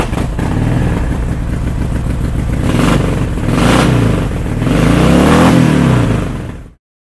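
A 2005 Harley-Davidson Sportster 1200 Custom runs close and loud with a chugging V-twin idle. It revs up twice in rising swells before the sound cuts off abruptly.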